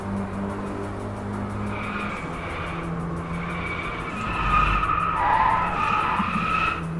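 Car tires skidding and squealing under hard braking mid-corner in the DRIVECLUB racing game, a sustained screech over steady engine drone that swells louder in the second half, with no talk.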